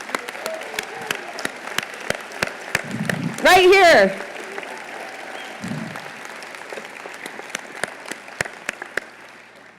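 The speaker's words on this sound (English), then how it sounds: "Give them a huge round of applause and a welcome to the biggest little city." An audience claps through a State of the City speech, with scattered, uneven applause that swells with a brief cheer near the middle, and a voice speaks a couple of words over it.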